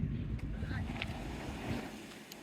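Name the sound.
breeze blowing at the seafront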